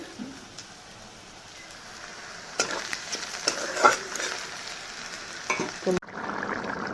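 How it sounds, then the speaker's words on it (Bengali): Onions fry in a pan for an egg curry, a soft sizzle that grows busier midway with stirring clatter and sharp utensil knocks, close and fairly quiet. "ডিমের জন্য পেঁয়াজটা ভেজে নিচ্ছি"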